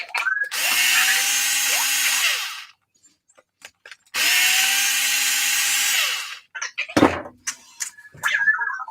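A power screwdriver whirs in two sustained bursts as it backs screws out of the front differential case of a Losi Lasernut RC car, close and loud, followed by clicks and small part-handling sounds.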